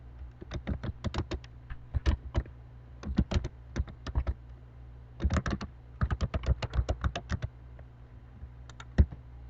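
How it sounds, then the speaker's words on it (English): An email address is typed on a computer keyboard: crisp, close key clicks in quick uneven runs, broken by short pauses, with no voices over them. "you need to type your email address"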